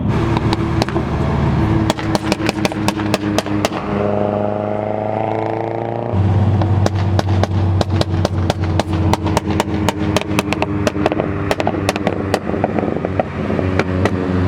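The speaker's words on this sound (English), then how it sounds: "it likes to do a little bit of backfiring" A tuned Mazdaspeed 3 engine crackles and backfires in rapid, loud bursts like automatic gunfire over a rumbling idle and burble, with a brief rising rev in the middle before the popping resumes.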